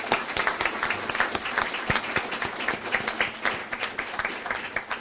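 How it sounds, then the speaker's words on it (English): An audience at a book talk gives its panelists a round of applause: continuous, dense clapping that holds steady at moderate volume throughout, with no speech over it. "let's just give a round of applause for our panelists."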